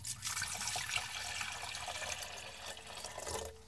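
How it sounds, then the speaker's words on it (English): Water is poured steadily into a cooking pot, about four cups for a cheesy bacon potato soup, a continuous close splashing and trickling rush with no talk over it. "We pour some of Miss Kitty's water in here"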